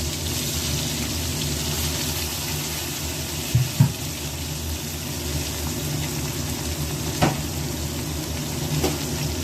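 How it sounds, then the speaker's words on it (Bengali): Brinjal frying in hot oil alongside pointed gourd for a tangra fish curry gives a steady, close sizzle throughout, with a few louder clinks and stirring knocks of a utensil against the pan. "দিয়ে দেবো বেগুন, বেগুনটাও লাল লাল করে ভেজে নেবো।"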